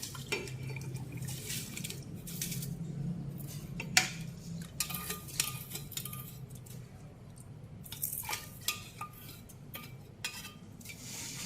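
Coarse salt being stirred slowly into about three and a half liters of water in a pot, with soft liquid swishes and scattered light clinks of a utensil against the metal, close and quiet.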